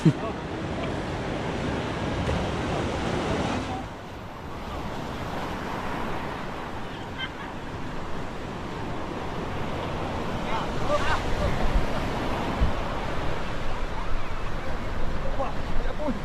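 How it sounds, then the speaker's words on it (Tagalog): Heavy surf roars continuously with wind buffeting the microphone, waves crashing in a steady loud wash that swells toward the end. "Oh, grabe, hindi pa lumiliit yung alon."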